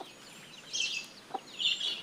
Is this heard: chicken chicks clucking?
yes